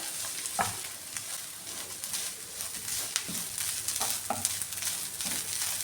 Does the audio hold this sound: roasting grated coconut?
yes